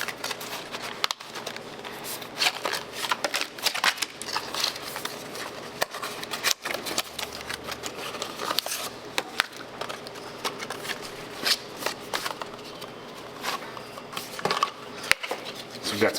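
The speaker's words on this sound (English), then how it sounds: "And here we have our toolkit, so we'll open that up." A bike frame protection toolkit for a Specialized Stumpjumper 15 is opened and its contents handled, giving scattered crinkly rustles, small plastic clicks and taps, close and fairly quiet, with some talk.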